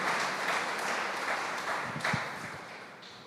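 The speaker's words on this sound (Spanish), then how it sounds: "Damos un aplauso al Señor." A church congregation applauds, with a dense wash of steady clapping that runs through the whole stretch and swells briefly near the end.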